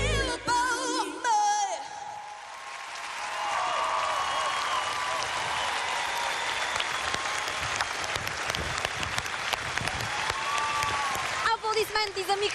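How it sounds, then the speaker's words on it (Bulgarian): A TV studio audience on the X Factor live show applauds and cheers for contestant Mihaela, a sustained roar of clapping and whoops that swells after a brief sung phrase and holds steady before fading near the end. "Аплодисменти за Михаела!"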